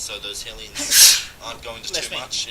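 A single short sneeze bursts out near the middle, loud and breathy, mixed into continuous excited commentary on a StarCraft match.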